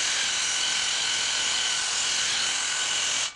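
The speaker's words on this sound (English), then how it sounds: "use the restorer with heavy pressure on a low RPM to pull those burn marks or iron stains out of the face of this texture" A wood restorer power tool runs at low RPM with heavy pressure on a rough-sawn wooden post, scrubbing out burn marks and iron stains; a loud, even whirring drone holds steady, then cuts off at the end.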